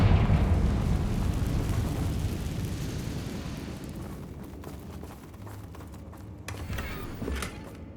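A Confringo spell blasts in the game Hogwarts Legacy, opening with a loud rumbling explosion that slowly decays into a fading roar, with smaller crackling bursts near the end.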